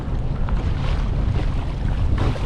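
Strong wind buffeting a microphone over a choppy sea while kayaking in Plymouth Sound, a steady loud low roar with water wash underneath.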